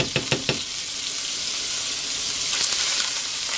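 Salmon fillets frying in a mix of butter and olive oil, a steady bright sizzle throughout, with a few sharp crackles and pops near the start and a swell of spitting later on.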